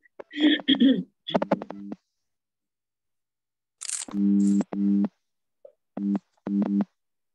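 A phone sounding a busy tone indoors, with repeated short evenly spaced beeps in bursts separated by silence, loud and close, following a brief stretch of speech.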